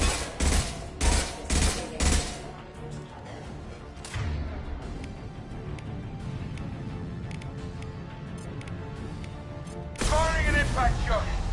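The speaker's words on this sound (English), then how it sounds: "Firing an impact shot!" Impact shot gunfire in the Mass Effect video game, several loud heavy bursts in quick succession at the start, then rumbling combat noise under talk, and another loud burst near the end.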